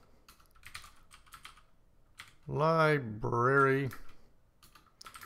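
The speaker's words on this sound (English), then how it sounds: "Oh, do you hear that clicking?" Computer keyboard keys click steadily during typing, close and fairly faint, while someone talks over part of it.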